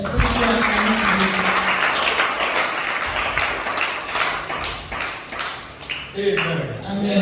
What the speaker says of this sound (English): Can we clap for Jesus?